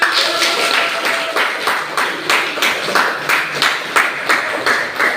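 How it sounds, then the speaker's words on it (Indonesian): A classroom audience claps in a steady, fast rhythm after a school mathematics presentation on statistics, with sharp, even bursts repeating throughout at moderate loudness. "tepuk tangan untuk kita semua"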